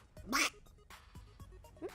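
A duck quacks as a sound effect: one loud, nasal quack followed by several softer, shorter quacks in an uneven rhythm, close and clear against a quiet background.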